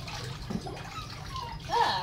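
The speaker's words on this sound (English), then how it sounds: "Change the water of the bath so that this one's clean and warm again" Bath water is changed for a Vizsla puppy's bath, a faint running and splashing of water in a tub, soft and steady with a voice briefly heard.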